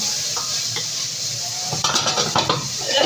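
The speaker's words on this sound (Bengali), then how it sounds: "এই যে বেগুনটা আমি বেশ সুন্দর করে কষানো নিচ্ছি।" Eggplant sizzling in hot oil in a pan while being stirred, a steady frying hiss with scraping and clinks of a spoon against the pan growing busier toward the end.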